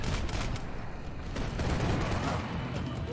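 Rapid bursts of gunfire from the video game Max Payne 3, a dense continuous fusillade of shots lasting the whole stretch with no pause.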